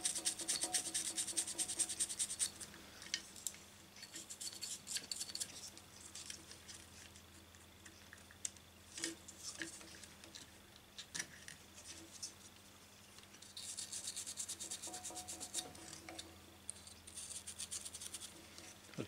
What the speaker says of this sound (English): This thing is a fiberglass pen, and it's great for cleaning small terminals.